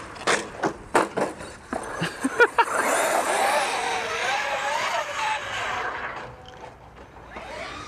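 A motor vehicle engine revs hard and close during a wheelie, opening with several sharp bursts and then a long roaring pull that slowly fades away. There is no talking over it.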